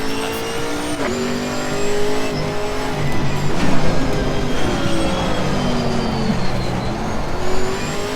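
Camaro GT4 engine in the racing game Assetto Corsa Competizione at Bathurst, a steady loud drone that climbs and drops in pitch through the gear changes, with tire noise under it and no voices.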